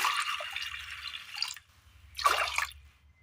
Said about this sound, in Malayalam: അല്പം വെള്ളം ഒഴിച്ചു കൊടുക്കാം